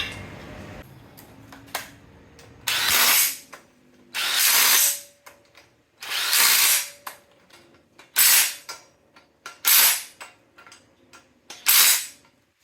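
Six loud, sharp bursts of a power tool or ratchet, a few seconds apart, as torque converter bolts are run down on a 1972 Chevrolet C10 with an LS engine swap and SFI flexplate, with quiet shop sounds between the bursts.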